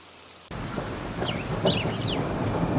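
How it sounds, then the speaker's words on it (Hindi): Heavy rain falls in a steady wash that starts abruptly and stays dense and loud, with a few faint bird calls audible through the downpour. "बारिश अब और तेज हो चुकी थी।"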